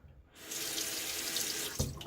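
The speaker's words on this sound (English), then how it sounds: "wait for the hot water to arrive so that I can kind of have a warm water rinse" Warm water from a bathroom tap runs steadily into a sink during a wet shave rinse, a close, constant rushing splash that starts abruptly and continues alone.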